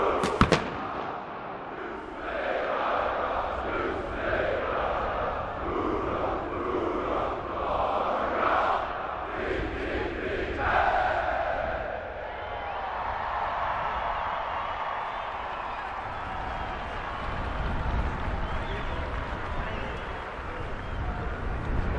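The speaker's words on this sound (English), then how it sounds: "join the Corps as they cheer the Army team towards victory with the rocket" A large crowd of Army cadets roars the rocket cheer at an Army-Navy football game, a sustained whooshing chant that swells and then breaks into loud open-air cheering from a distance.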